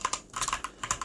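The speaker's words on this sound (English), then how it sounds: "I want to try to type in Araucanía here." A computer keyboard is typed on in a quick, close flurry of light clicking keystrokes, with no other sound.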